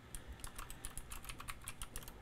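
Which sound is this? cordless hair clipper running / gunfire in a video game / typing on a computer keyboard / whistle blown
typing on a computer keyboard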